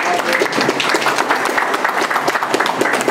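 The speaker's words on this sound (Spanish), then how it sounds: "Fuerza, aplauso." A crowd applauds at an outdoor community event in Cuculí where hoses are being handed out, with steady dense clapping throughout, fairly loud and close, without talk.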